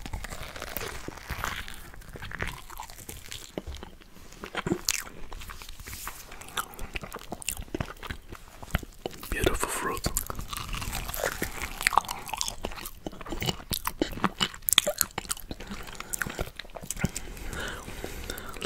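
Someone eats durian up close, with soft wet chewing, sticky mouth sounds and occasional crunchy bites in a steady run, mixed with quiet whispering.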